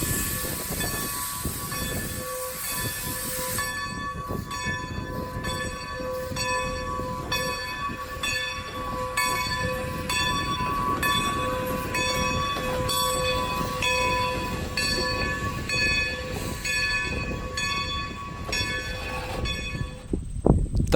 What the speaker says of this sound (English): let's follow Strasburg 90 as she pulls the regular passenger train from East Strasburg Yard to Lehman Place in Paradise